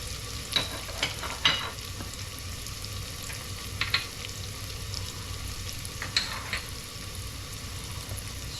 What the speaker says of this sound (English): Now I'm going to add this ground spices.